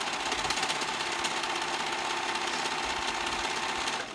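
A sewing machine runs steadily while stitching all the way around the edge of a bell flounce sleeve, a continuous close mechanical whir holding even for about four seconds with no pauses, no talking over it.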